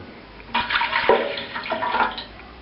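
Water poured into a bread machine pan, a short splashing gush lasting under two seconds, close and moderately loud, with no voices.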